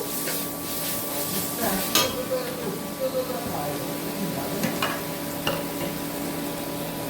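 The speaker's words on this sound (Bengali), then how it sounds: "দিয়ে দিচ্ছি 1 চামচ আদা রসুন বাটা। এটাকেও ভালো করে কষিয়ে নেব।" Ginger-garlic paste frying and being stirred in a pan for a Nile tilapia curry, a steady close sizzle with occasional spoon scrapes and light clinks against the pan.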